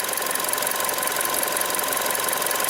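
A Chevy Sonic engine that has just about warmed up idles with a steady, even hum and a faint fine rattle, running alone at moderate level for the whole stretch.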